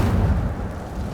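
An Incendio fire spell cast in Hogwarts Legacy hits as a short, deep whoomp-like burst at the start and fades into a low, rumbling tail, loud and close, with no talking.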